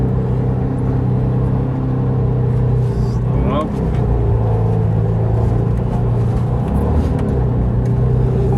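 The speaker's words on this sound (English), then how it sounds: "Yeah, first time driving the Ford GT." A Ford GT sports car cruising from the inside, a loud steady engine drone and low rumble throughout, with someone talking over it.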